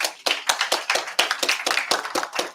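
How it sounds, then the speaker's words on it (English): Applause at a scholarship and loan agreement signing ceremony, a small group clapping steadily and fairly close for a couple of seconds, with irregular overlapping claps and no voices. "I believe that deserves a round of applause"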